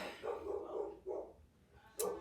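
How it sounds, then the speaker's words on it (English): Dogs bark in the background of a home, a few moderately distant barks in an irregular rhythm with short gaps between them, fairly quiet, with no talking. "Sorry if you hear my dogs barking in the background."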